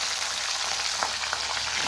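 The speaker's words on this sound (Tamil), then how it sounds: "ஸோ வாங்க நம்ம இப்போ குடமிளகா கொஞ்சமாக நம்ம எண்ணெயில் ஃப்ரை பண்ணி எடுத்துக்கலாம்." Capsicum frying in a little oil in a pan, a steady close sizzle with broadband crackle and a few sharper pops, no voices.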